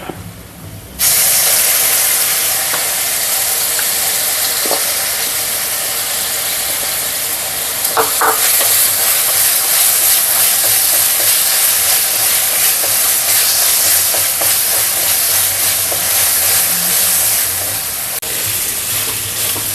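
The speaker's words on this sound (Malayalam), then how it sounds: "നമ്മുടെ സവോളയും ഇഞ്ചിയും വെളുത്തുള്ളിയും എല്ലാം കൂടെ നല്ല പോലെ മൂത്ത് വന്നിട്ടുണ്ട്" Onion, ginger and garlic paste fry in a pan with a loud, steady sizzle that starts abruptly and holds for the whole stretch, broken by a few faint clicks and taps.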